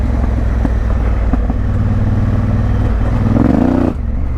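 A Honda Africa Twin motorcycle engine off road, a loud close steady drone that rises in pitch as the throttle opens near the end, then cuts off sharply.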